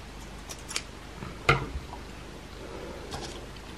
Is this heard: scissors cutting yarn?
yes